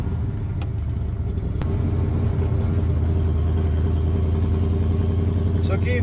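A 1965 Shelby AC Cobra's engine idles and rumbles steadily at close range, a deep continuous throb with faint clatter, while voices talk nearby.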